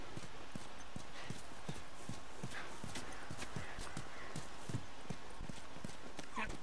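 Horse hooves clop at a steady walking rhythm in The Last of Us Remastered on PS4. The hoofbeats are close and evenly paced under a constant background hiss, with no other sounds intruding.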